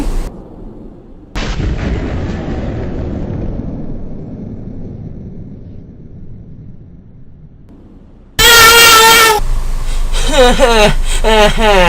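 Loud, close gunshots in a parking lot, first one sharp blast with a long decaying echo, then a rapid burst of repeated shots with rattling reverberation; a voice can be heard pleading beforehand.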